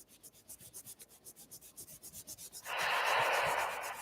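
Hands firmly rub the body in steady rapid back-and-forth strokes, a soft rhythmic scuffing close by, building into a louder continuous friction toward the end.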